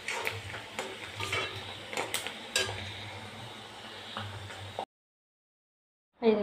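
Chana dal dry-frying in a pan gives a close, continuous rustle and scrape of stirring with soft clinks, then stops dead into near silence before one short loud knock at the end.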